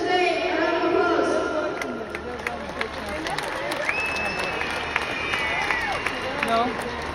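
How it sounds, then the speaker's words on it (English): An audience applauds at a Galway All-Ireland Senior Camogie Championship acceptance speech, with steady clapping and crowd murmur throughout and voices over the top. "A round of applause."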